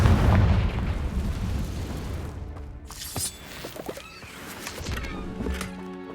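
Confringo fire spell exploding in Hogwarts Legacy, a heavy booming blast up front that rumbles and decays, followed by sharper crackling bursts and impacts amid game music.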